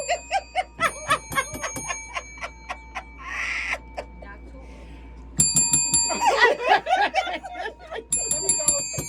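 Bell rung repeatedly in quick, sharp rings with ringing overtones, in bursts separated by brief pauses, while people talk and laugh in between.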